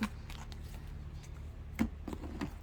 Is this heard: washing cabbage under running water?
no